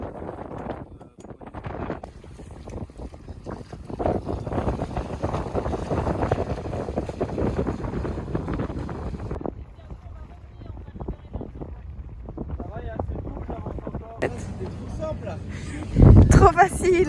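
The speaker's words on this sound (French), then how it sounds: "il y a beaucoup de vent" Strong wind buffets the microphone continuously on a sailboat off Brittany, with rushing gusts and splashing; a few voices speak briefly under the noise.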